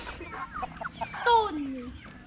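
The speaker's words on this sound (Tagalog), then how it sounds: "And now they have more. More chicken." Chickens cluck and squawk on a chicken farm, close and lively, with a brief rising squawk in the middle.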